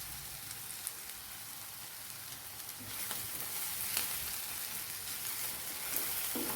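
Chopped onions sautéing in a pan with crushed garlic, ginger and green chili for egg biryani, a soft steady sizzle with a few stirring clicks, growing slightly louder midway.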